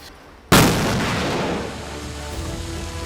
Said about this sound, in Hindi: जिसमें छोटे छोटे कंट्रोल धमाके किए गए